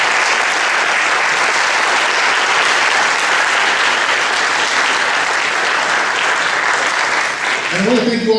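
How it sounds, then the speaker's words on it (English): Loud, sustained audience applause for candidates at an Austin city council district forum, a dense steady roar of clapping from a full room, with a voice starting to speak just as it ends. "Can we get a round of applause for them?"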